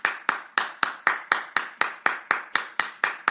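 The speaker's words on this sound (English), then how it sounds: "That slow clapping" Slow, deliberate clapping with about thirteen sharp, evenly spaced claps, each ringing briefly before the next, loud and close with no talking.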